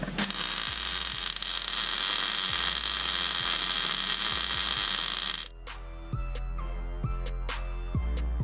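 Welding runs a seam on an engine mount for a 2JZ engine swap, a steady, loud crackling hiss lasting about five seconds, then cutting off, followed by sparse metallic clicks and taps.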